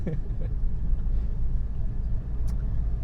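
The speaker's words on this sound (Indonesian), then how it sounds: "Cuman sekarang itu road noise-nya tuh tinggi banget" Tyre and road noise inside a moving Suzuki Ignis, a steady low rumbling drone heard from the cabin with constant loudness throughout, no talk over it.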